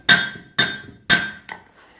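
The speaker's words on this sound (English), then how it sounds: "If you're noticing how my hammer is striking" A blacksmith's hammer strikes hot steel on an anvil while forging a hoe: three sharp ringing blows at an even pace, then a lighter fourth tap, close and clear.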